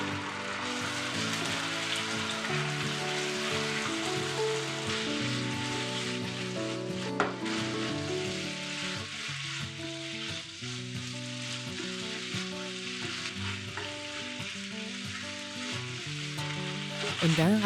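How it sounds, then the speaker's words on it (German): Pork liver fries in oil in a hot pan, a dense continuous sizzle that crackles steadily throughout, close and fairly loud, with occasional stirring clatters. "Die Leber zuerst medium braten."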